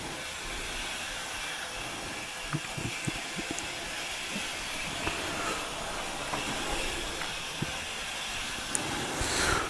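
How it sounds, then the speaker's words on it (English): Model railway locomotive running on a layout in an indoor railway room, giving a steady low hiss and rumble with scattered small clicks and ticks from the track, continuous throughout at moderate level with no talking. "this is the first train to run in the model railway room"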